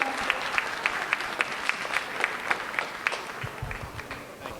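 Audience applause at a high school diversity festival after a children's performance, a steady patter of clapping from a modest crowd with regular sharp claps standing out, tapering off toward the end.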